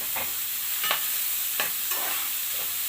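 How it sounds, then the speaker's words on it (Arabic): Onions are being sautéed in a pan to soften for a liver-and-pepper fry. A constant bright sizzle carries several distinct stirring scrapes spaced across it. No voices. "انا مش عايزه البصل يتحمر، انا يدوب هشوحه"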